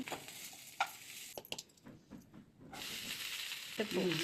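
Okra frying in a pan for a homestyle okra chutney, giving a soft, uneven sizzle broken by sharp clinks and scrapes of stirring, close and fairly quiet.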